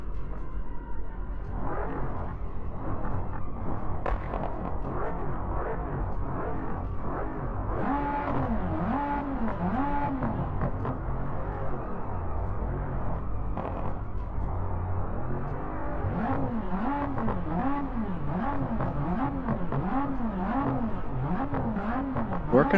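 Several race cars in a video game rev and accelerate at a start, engines whining up and down in overlapping sweeps with a steady rumbling bed, loud and continuous throughout.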